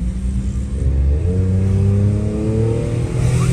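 Toyota Corolla engine revving hard like a sports car, loud and close, a sustained roar whose pitch climbs steadily as the car accelerates, with no voices over it.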